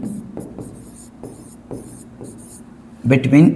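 Chalk or marker scratching on a board during a class 10 physics lesson on image formation with a convex lens, a series of short rhythmic strokes, close and clear, with a voice talking at the end.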